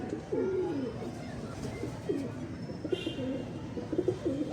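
Soft, repeated pigeon cooing in a low rolling rhythm, several phrases in a row, close by against a faint background hum.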